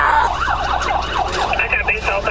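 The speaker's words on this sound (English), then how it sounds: "Despite the blaring sirens and flashing lights on the police vehicles, Derek continued his reckless driving" A wailing police car siren sweeping up and down rapidly, loud and close, over a low engine rumble.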